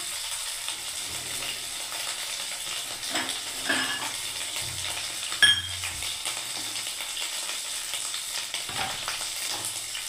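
Cauliflower florets fry in oil in a pan, a steady hissing sizzle running throughout with an occasional light clink of a utensil against the pan, close and even, no one speaking.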